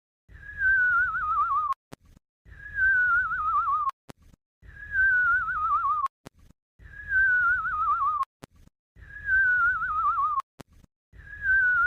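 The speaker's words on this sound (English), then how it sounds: "stop whistling like endless numbers right now" A person whistles the same falling, wavering phrase five times in a row, each about two seconds long with short gaps between, clear and close with no talking.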